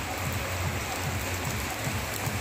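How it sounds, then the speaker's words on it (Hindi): Light rain falls steadily near a hilltop Shiva temple beside a forest, an even, soft hiss of drops on surfaces with no voices or other distinct sounds. "अभी थोड़ा बारिश हो रहा है"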